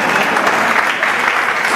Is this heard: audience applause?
yes